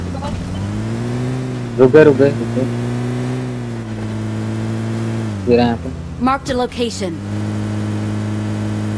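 A game car engine hums at a steady low pitch in a military-base battle-royale match, running continuously under excited talk with a couple of brief shifts in tone.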